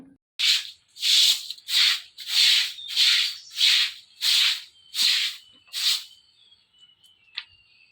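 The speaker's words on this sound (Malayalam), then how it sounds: "നമ്മളിങ്ങനെ വെള്ളം ഒഴിച്ച് ചൂല് കൊണ്ട് ഈർക്കിൽ ചൂല് കൊണ്ട് അടിച്ച് കഴുകുമ്പോഴാണ് വൃത്തിയാവുന്നത്" A coconut-leaf broom scrubs steps being washed with water, making eight loud, rhythmic swishing strokes close by, evenly spaced, before trailing off into a faint scrape.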